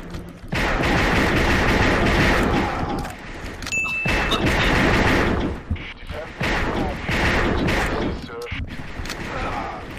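Pistol shots from the Assault Cube first-person shooter crack out in a dense, loud string of gunfire across most of the stretch, with other game noise mixed in and short pauses near the middle.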